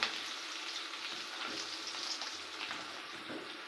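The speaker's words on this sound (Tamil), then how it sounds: "இப்போ வந்து உருளைக்கிழங்கு தேவையான வெங்காயம் வரமிளகாய் எல்லாம் போட்டு வதக்கிட்டு இருக்கேங்க" Onions, potatoes and dried red chillies sauté in a pan, giving a steady, soft crackling sizzle that runs evenly throughout at low level, with no talking.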